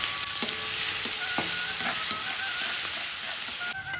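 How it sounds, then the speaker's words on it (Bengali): Chopped onion hits hot oil seasoned with black cumin, left over from frying katla fish, giving a loud continuous close sizzle with occasional stirring clicks before it drops off abruptly near the end. "এরপরে দেবো পেঁয়াজ কুচি"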